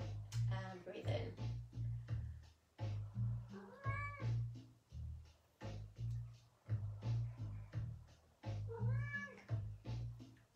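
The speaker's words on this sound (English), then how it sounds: "Like the cat wants to join in this evening." A house cat meows repeatedly during an evening Pilates class, its drawn-out cries rising and falling at a moderate distance over the steady background of the session.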